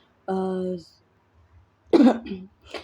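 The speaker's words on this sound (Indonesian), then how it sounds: "sebelumnya maaf ya kalau ganggu banget dengan batuk aku" A tonal throat sound followed by a sharp, harsh cough and a smaller one after it, close and loud, with no talking.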